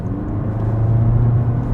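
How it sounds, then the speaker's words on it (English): A Volkswagen Golf GTI Clubsport hot hatch drives along, its exhaust giving a loud, steady low thrum and hum from inside the car, with no talk. "that thrum, that hum that comes from the exhaust, that bark when the exhaust isn't happy with you anymore"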